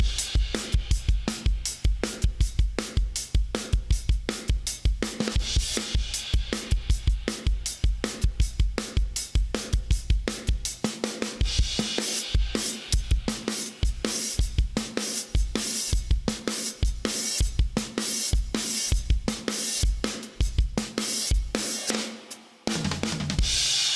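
A drum kit plays the verse of a song, with a steady, punchy kick and snare groove and busy cymbal work throughout, close and loud with other music behind it.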